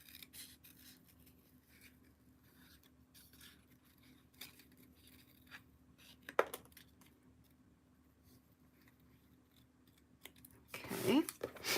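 Scissors snip quietly and closely through paper while a ghost shape is cut out for a craft project, with soft rustling and a few sharper cuts and handling noises.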